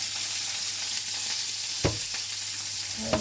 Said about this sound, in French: on cuit les champignons souvent pour pas qu'ils brûlent